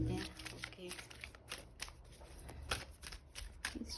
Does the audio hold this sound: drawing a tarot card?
yes